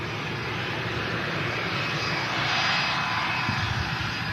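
An Airbus A400 military transport flies low overhead at about 2,000 feet, its turboprop engines producing a loud, steady roar that swells slightly as it passes, with no voices.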